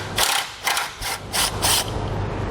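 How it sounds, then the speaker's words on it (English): A ratchet fitted with a 12mm socket works loose the horn bolt on a 2014 Honda CR-V, giving five bright bursts of fast clicking in a quick rhythm, close and clear with no talk. "We're going to use a 12mm socket."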